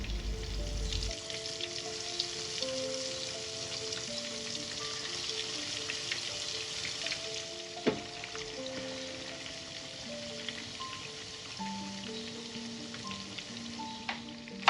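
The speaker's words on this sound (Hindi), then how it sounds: "अब मैं ना जो मेरा मैरिनेटेड चिकन है ना उसको ना डीप फ्राई करूँगी" Marinated chicken deep frying in hot oil, a continuous dense crackling sizzle like light rain, steady and moderately close, with background music and an occasional sharp knock.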